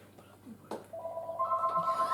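A telephone rings through a Bible lesson, a steady electronic warbling tone starting partway through at moderate loudness over background room noise and faint speech.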